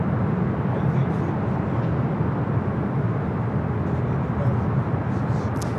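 Heavy, constant engine roar from a Southwest Boeing 737 at LAX, bound for New Orleans, fills the scene as a dense, unbroken rumble, fairly loud and steady, with faint voices beneath it.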